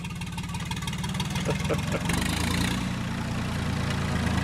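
A rebuilt Ford backhoe with many faults runs steadily, its diesel engine idling with a low, rumbling throb that swells slightly partway through, close and alone.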